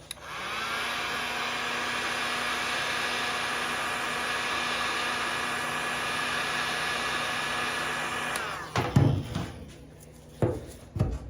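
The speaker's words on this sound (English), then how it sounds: "We're going to use heat gun and a plastic scraper." A heat gun blows hot air steadily onto a twenty-year-old clearbra on an old Mini Cooper, a loud constant whooshing whine that cuts off near the end, followed by a few short knocks and rustles.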